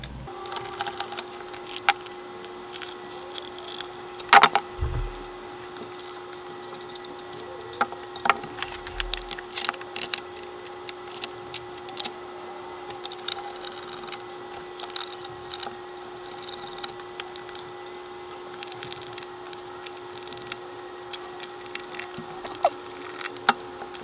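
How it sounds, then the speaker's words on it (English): Small clicks, taps and scraping of screws and plastic parts as a Bushnell Yardage Pro 500 laser rangefinder is taken apart, intermittent close handling noises over a steady hum, with no talking. "So let's take this device apart and see what's inside."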